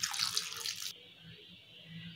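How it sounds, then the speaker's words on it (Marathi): Water pours into a pan of raw mango slices being readied for cooking, a loud splashing stream lasting about a second before it cuts off, leaving only a quiet room hum. "शिजण्यासाठी पाणी ओतायचं आहे।"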